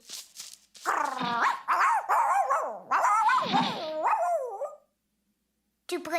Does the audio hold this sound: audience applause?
no